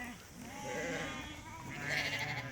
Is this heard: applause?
no